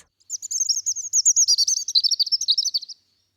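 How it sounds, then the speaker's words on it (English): A bird sings a rapid string of high, clear chirps and tweets for close to three seconds. The calls are near and prominent, with silence before and after. "Tweets,"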